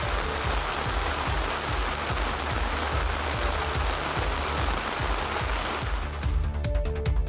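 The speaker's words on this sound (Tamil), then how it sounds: "கனமழை காரணமாக திருத்துறைப்பூண்டி பழைய பேருந்து நிலையம், நாகை சாலை உள்ளிட்ட பல்வேறு பகுதிகளில் மழைநீர் பெருக்கெடுத்து ஓடியது." Heavy rain pours down in Thiruthuraipoondi with rainwater running through streets, a dense, steady hiss and patter of drops on surfaces, loud and continuous, with a faint rhythmic thumping beneath.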